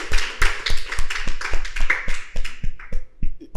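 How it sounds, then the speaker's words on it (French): An audience applauds at a live event, a quick run of sharp close claps in an uneven rhythm that thins out toward the end, with no talk over it. "Donc encore une fois, on applaudit"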